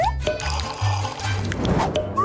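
Bubbles blown through a straw into a drink make a short burst of close, soft gurgling and bubbling that rises toward the end.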